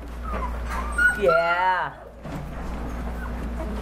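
Shepadoodle puppies whimpering, a high wavering whine and yips close by, with a person talking softly in the room.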